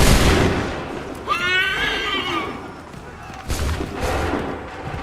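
Gunfire bursts out after an order to shoot: booming shots come at the start and again near the end, loud and close. A horse whinnies in between, and voices are heard.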